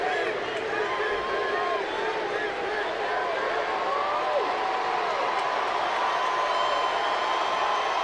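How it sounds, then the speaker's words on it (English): Crowd cheering at a baseball stadium during a Red Sox at Angels game, with fans of both sides reacting as a batter is announced; a steady, dense roar of crowd noise with a few whistles rising above it, continuous throughout. "When that man is announced, both sides cheer"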